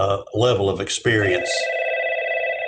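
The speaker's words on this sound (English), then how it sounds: "Let me let somebody else talk and this phone quits ringing." A telephone rings during an engineering committee meeting, a steady electronic tone sounding right after a person briefly speaks.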